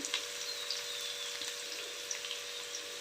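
Ivy gourd frying in oil with turmeric, a steady close hiss and crackle of sizzling that holds evenly throughout with small scattered pops and no talking.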